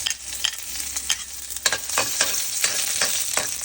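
Garlic sautés in hot cooking oil in a pan alongside onion and ginger for a crab dish, a bright crackling sizzle punctuated by regular, rhythmic stirring strokes close up.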